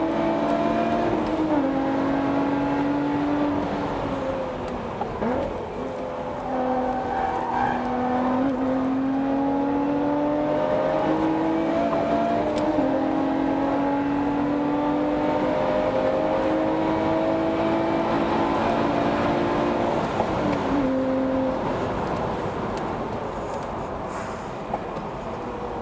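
Lotus Exige Cup 430 and Evora GT430 engines racing flat out, a loud sustained high-revving drone with rising pitch sweeps and brief drops at gear changes, continuous and close throughout.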